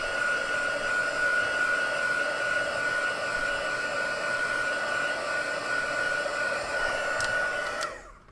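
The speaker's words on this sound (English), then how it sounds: "I'm going to dry it off with my heat tool just to get the ink dry." A handheld embossing heat tool blows steadily to dry ink on a piece of paper during card making, giving a constant close whirring hiss that runs unbroken for about eight seconds before cutting off.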